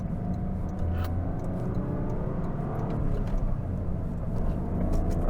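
Toyota GR Corolla engine while driving on an open road, a steady low droning rumble with road and wind noise, loud and continuous.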